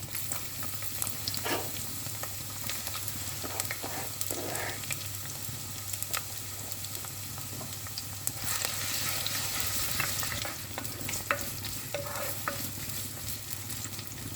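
Onion and whole spices (cinnamon, cardamom, cloves) sauté in hot oil with a steady, moderately quiet sizzle, broken now and then by scraping stirs.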